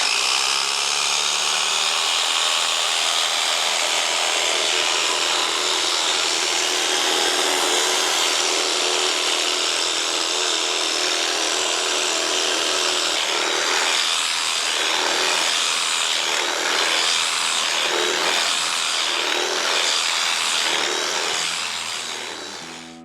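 An Echo 56V battery strimmer fitted with a scythe attachment cuts steadily with a loud, continuous high-pitched whine, then pulses in regular surges as it sweeps back and forth near the end.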